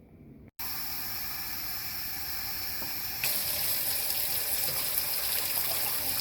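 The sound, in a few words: water poured from a mug into a pot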